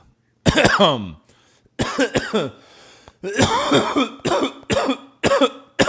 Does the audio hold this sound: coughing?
yes